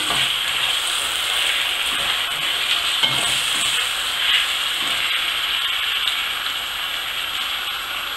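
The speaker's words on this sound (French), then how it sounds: "On va mélanger le tout." A spoon stirs a vegetarian mixture with vegetable broth and jelly, making a steady, close scraping and sizzling churn that runs on without pause.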